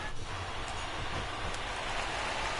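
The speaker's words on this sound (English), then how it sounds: "There is rain in the area" Steady rain falls at a baseball game, a constant dense hiss of drops on surfaces with no let-up, heard on its own without talk.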